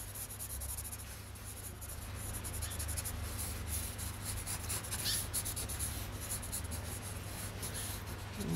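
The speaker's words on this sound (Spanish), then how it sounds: "Yo ahora voy a dibujar." Pencil scratching and rubbing steadily across a varnished woodcut printing block, a continuous dry graphite scraping texture heard close up over a low background hum, with no speech.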